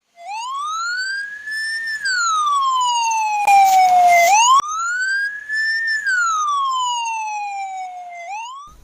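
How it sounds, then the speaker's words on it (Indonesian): A loud wailing ambulance siren rises and falls in long sweeping cycles as it passes, its pitch shifting with the Doppler effect, with a brief burst of noise partway through. "suara sirine ambulans terdengar lebih keras ketika kita berada di dekat ambulans daripada ketika kita berada jauh dari ambulans"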